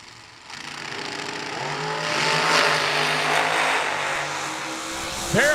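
A supercharged dragster launches down a drag strip at a New Year Nationals bracket race. Its loud, close engine roar swells and sweeps upward, holds at a heavy drone, and surges again at the very end.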